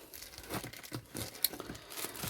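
Plastic crinkles and rustles in irregular bursts close by, with a few sharper crackles as it is handled.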